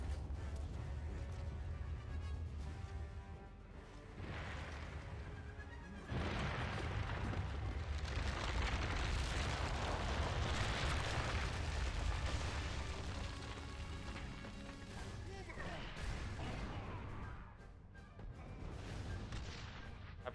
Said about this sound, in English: Probably a lot faster for me just to use a grenade